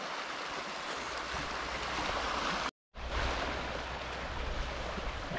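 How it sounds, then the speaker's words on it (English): Waves lap against rocks on Loch Lochy in the Scottish Highlands, a continuous close wash with some wind rumble. The sound cuts out briefly midway, then resumes. "It's just like the sound of the waves just lapping the rocks"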